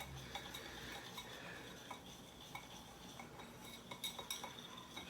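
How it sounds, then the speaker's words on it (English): A utensil stirs chocolate pudding ingredients together in a bowl, producing a quiet series of scraping clinks and taps against the bowl with no voices. "so just mix that all together like this"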